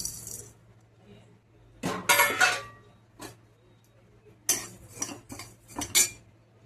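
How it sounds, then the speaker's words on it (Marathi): Spices for a traditional village-style pickle roast together in a pan over a low gas flame, while a metal spoon stirs and scrapes with sharp, intermittent clinks in short bursts separated by quiet pauses. "त्याच्यामध्ये आता हे सगळे जिन्नस टाकून आपण एकत्र भाजून घेऊया"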